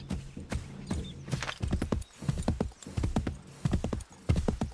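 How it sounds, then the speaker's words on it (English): Rhythmic clip-clopping of horse hooves at a steady walking pace in the video game Assassin's Creed 3, close and clear, with no talking. "These horses are so slow in this game"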